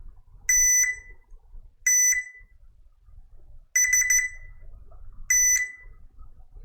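A multimeter in continuity mode beeps while testing filters on an Xbox One S board: four sharp, clear electronic tones, each about a third to half second long, separated by quiet gaps.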